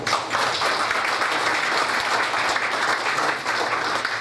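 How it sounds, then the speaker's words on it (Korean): An audience at a Korean community association general meeting applauds two honorees, with dense, loud, sustained clapping and a few sharper claps standing out, continuing throughout without speech. "두 분 박수 부탁드립니다"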